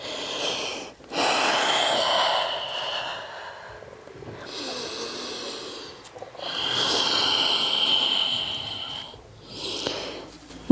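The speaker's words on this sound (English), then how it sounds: "As you exhale," Breath is pushed out audibly during a yoga stretch for flexibility, in long, close, breathy exhales with brief pauses between them.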